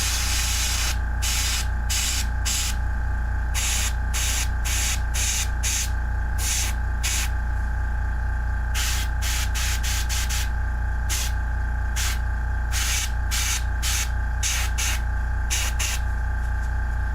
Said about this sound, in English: I think I might have a blockage in my airbrush.